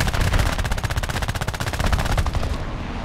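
Rapid aircraft machine gun fire from a Ki-10-I biplane in War Thunder, a fast steady stream of loud, close shots running nearly three seconds before cutting off, with no talk over it.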